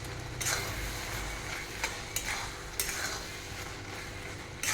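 Grated carrot halwa is stirred with jaggery in a hot pan: a soft, steady sizzle runs underneath as a spoon scrapes and taps the vessel several times, close and fairly quiet.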